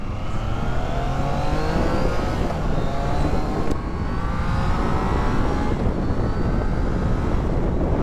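A Triumph Trident 660 motorcycle engine roars continuously and loudly, revving up with rising pitch while riding, accompanied by heavy wind rush.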